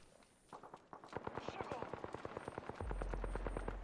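Rapid automatic gunfire in Apex Legends, a steady burst of evenly spaced shots ringing out for several seconds in a canyon, fairly close, with a deep rumble joining near the end.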